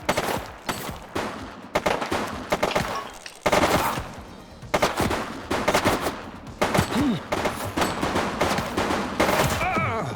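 Dense bursts of gunfire from the 1980s crime-city police game The Precinct, volleys of rapid shots in repeated clusters across the clip, loud and close, with brief gaps between salvos.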